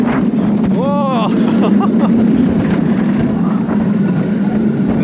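Expedition Odyssey ride car rattles and roars through a rolling launch at SeaWorld Orlando, with loud steady wind and track rumble throughout and a brief voice exclaiming near the start.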